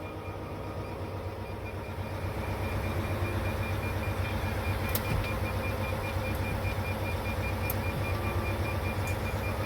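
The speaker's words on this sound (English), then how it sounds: "You can hear the low battery going off in the back." Low-battery warning in a semi truck during a jump-start attempt: faint, sparse high beeps sit over a steady low engine-like rumble and hum inside the cab, with no talking.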